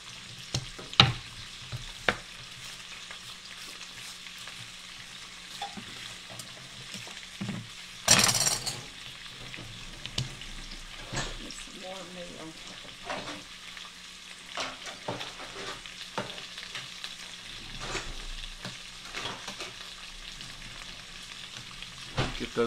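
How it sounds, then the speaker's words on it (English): Breaded Vidalia onion slices frying in hot oil, a quiet steady sizzle broken by scattered utensil clicks and one loud burst of spattering partway through. "So into the pool goes these Vidalia onions."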